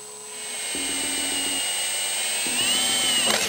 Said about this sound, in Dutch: In een nieuwe auto even gaatje boren.